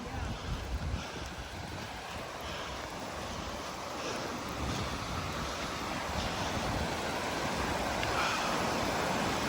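Floodwater rushes through an unusually swollen creek, a dense, steady roar close by with wind buffeting the microphone and no talk.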